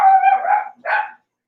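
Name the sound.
dogs barking wildly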